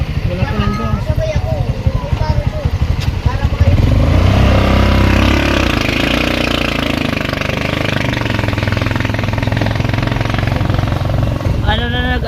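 A motorcycle engine putters unevenly, then revs up louder at about four seconds and holds a strong throaty drone, with people chatting nearby throughout.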